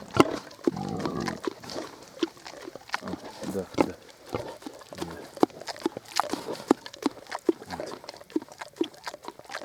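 Mangalica pigs and a boar grunting and snorting at close range, with a continuous mix of short grunts, squeals and shuffling movement around them.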